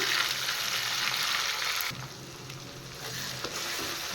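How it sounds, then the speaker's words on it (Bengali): Onions and chopped tomatoes fry in a pan with a steady, bright sizzle that dips briefly partway through, then continues close and unbroken with no talking. "এবার আমি কেটে রাখা টমেটো দিয়ে দিচ্ছি এবার টমেটো সহ একটু ফ্রাই করবো"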